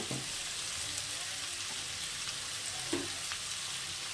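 Ground coriander and cumin fry steadily in a pan for a shrimp and papaya curry, a continuous close sizzle with a few soft scrapes of stirring.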